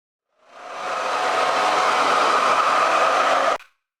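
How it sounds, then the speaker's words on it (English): A blow dryer on its cold setting, used to dry a doll, whirs up from silence into a loud, steady airy roar for about three seconds, then cuts off sharply. "I use a blow dryer on the cold setting"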